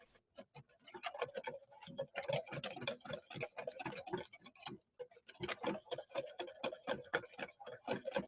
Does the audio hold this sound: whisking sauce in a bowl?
yes